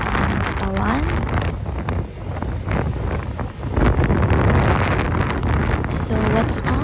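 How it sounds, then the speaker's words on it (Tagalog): Steady wind on Treasure Mountain buffeting the microphone with a broad rushing roar, while voices talk over it throughout. "pakinggan po natin yung hangin na umahampas sa aming katawan"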